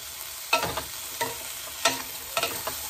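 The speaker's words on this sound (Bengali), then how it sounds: "ভালো করে নেড়ে চেড়ে" Potatoes, peas and broccoli with ginger stirred in a pan over a low gas flame: four or five distinct scraping strokes over a gentle background sizzle, close and clear.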